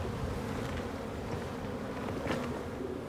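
Honey bees buzz steadily around a hive on an island where a parasite has spread among the colonies, a dense continuous drone with no voices.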